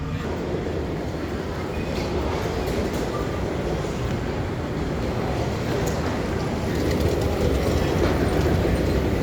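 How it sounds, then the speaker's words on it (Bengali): A Doha Metro train in Qatar running steadily, its wheels rumbling and clattering at a constant, loud level with no breaks throughout. "মেট্রোর জন্য অপেক্ষা করতেছি এখন আমি মেট্রোতে উঠবো"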